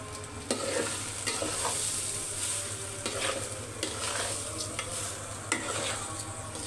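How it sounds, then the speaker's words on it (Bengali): Rice frying and being stirred in mustard oil in a pan for biryani, a steady close sizzle with scraping strokes of the spoon recurring every second or so, no talk. "চালটা দিয়ে দিতেছ, চালটা দিয়ে ভালো মতো ভেজে নেবে।"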